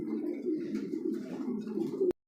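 Pigeons coo steadily and close by in a loft, a low continuous murmur of overlapping calls from birds kept for sale, ending with a sharp click and brief silence.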